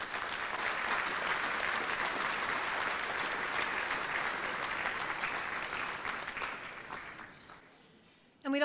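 Applause from an awards-ceremony audience for the jury at a Vancouver urban development awards event, dense steady clapping that gradually fades out before a voice begins.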